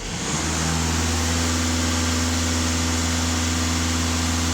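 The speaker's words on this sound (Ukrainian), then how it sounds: "дам газ пол на обертах, подивимося, що показують." A Skoda Octavia RS with a 230 PS engine is held at raised revs, giving a loud, steady drone with a constant low hum throughout and no talking.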